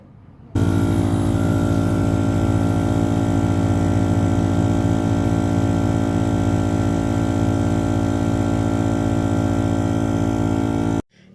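Small portable air compressor inflating an RV tire: it kicks on sharply and runs at a constant, loud, humming drone for about ten seconds, then cuts off abruptly.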